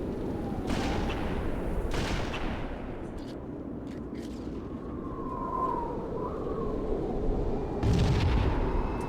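In a Halo video game tournament match, grenade blasts and gunfire ring out, several sharp loud explosions spaced a second or two apart amid a constant rumble of battle, with a heavier burst near the end.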